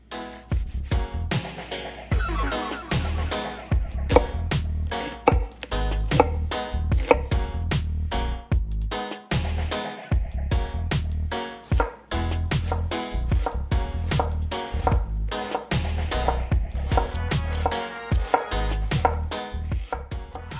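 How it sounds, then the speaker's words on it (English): Knife chopping through half a large onion on a cutting board, with rapid, steady rhythmic taps that continue for a long stretch, close and crisp with no talking. "Cut half of a large onion in the same manner."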